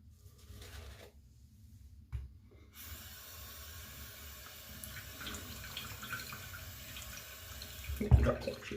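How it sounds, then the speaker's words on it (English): Water runs from a tap at a shaving sink, starting after a brief silent pause and continuing as a steady, moderate hiss, with a short louder splash near the end. "A little bit of water here in a second."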